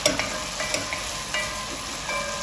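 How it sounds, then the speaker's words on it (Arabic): Potatoes frying in a pan, giving a bright steady sizzle of hot oil with several light taps and scrapes of a utensil, close and moderately loud, without talk. "نرجع للبوتيتا نشوفها شلون تنحمس بهذا الشكل"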